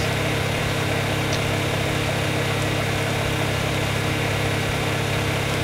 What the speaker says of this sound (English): That noise you're hearing is the fabricator.